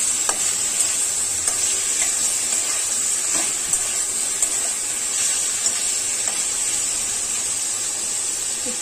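Chicken pieces fry in a pan with onions for biryani, giving a steady loud sizzle with occasional stirring clicks close by and no talking.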